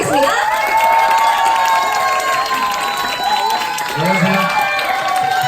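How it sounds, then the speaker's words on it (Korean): An indoor audience at a beauty creator academy opening claps and cheers to welcome a speaker, a loud, sustained wash of applause with shouts and a whistling tone across the whole stretch. "큰 박수로 모시도록 하겠습니다."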